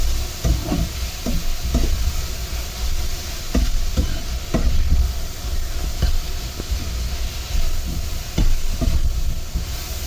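Shrimp and dried chili fry in a pan with a steady broadband sizzle, while irregular soft knocks and scrapes of stirring sound close by and no one speaks.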